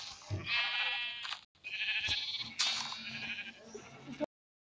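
Several loud, close sheep bleats, each drawn out and wavering, separated by short pauses.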